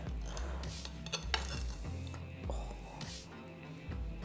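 A knife slicing into a baked lemon orange rhubarb loaf with crispy corners, giving a few close crunchy cuts and scraping knocks against a plate or board, with no talking.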